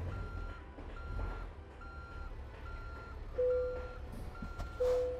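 Reversing alarm from a truck in American Truck Simulator, evenly spaced electronic beeps sounding steadily over a low engine rumble, with two sharp air hisses near the end.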